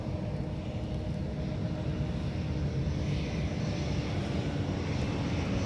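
A jet aircraft rolls for takeoff on the runway at Dublin Airport, its engines producing a steady, loud, broadband roar with deep rumble that holds constant throughout, with no voices.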